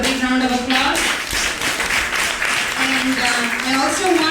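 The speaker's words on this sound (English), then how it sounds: "let's give all the disciples helping to put this festival a big round of applause" Audience applause at a 1995 Vyasa Puja festival in Atlanta for Jayapataka Swami, a steady wash of clapping from a crowd, with voices and a sustained tone carrying over it.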